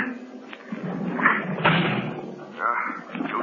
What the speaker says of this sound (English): I'm going to try to break down the door.